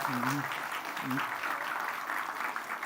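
Applause from a young audience of teens at a TEDx youth event, a broad steady wash of clapping, with a voice speaking briefly over it near the start.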